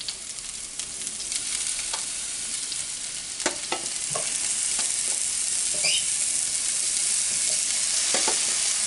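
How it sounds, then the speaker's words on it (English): Food sears in a hot skillet with a steady, loud sizzle, broken by occasional clicks and scrapes of a utensil shifting pieces in the pan. "This is going to take approximately 2 to 3 minutes to sear these"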